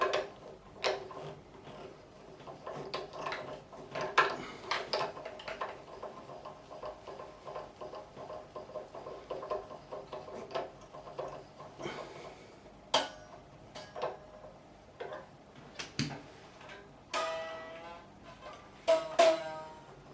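A peg winder turning the tuning pegs on an Epiphone Riviera guitar, giving a run of close, small clicking ticks and rattles in irregular bursts, with faint string ringing.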